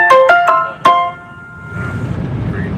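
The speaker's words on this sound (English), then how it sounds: "Notification going off." A phone notification chime rings out loud and close, four quick bright melodic tones that fade into a low background hiss.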